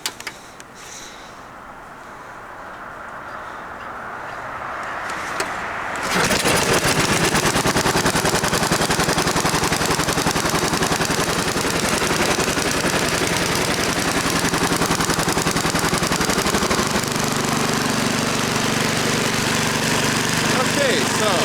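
A 1978 Craftsman 7hp 24-inch dual-stage snowblower roars into loud, steady running after a few quieter seconds, its engine drone close and continuous to the end.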